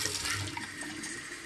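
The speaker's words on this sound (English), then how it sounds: "Put some water in the cup." Water pours steadily into a cup, a short, continuous splashing trickle heard close up with no talking.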